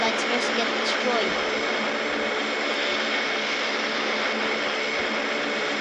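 Airplane engines in a flight video game droning steadily as the aircraft slows near the airport, a loud continuous roar with no talking.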